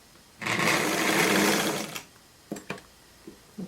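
A sewing machine stitching a straight seam on gymnastics skirt fabric, running in one steady burst of about a second and a half, then a few short clicks and taps as it stops.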